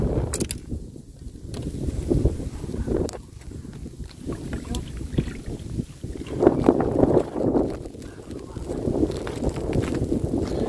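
Gusty wind roars against the microphone in uneven surges while net fishing on first ice, with low rumbling and occasional knocks, no clear talk.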